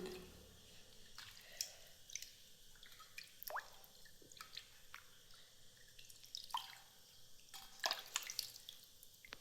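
Water splashes and drips as hands and face are washed at a basin, soft irregular splats and trickles close by, with no talking.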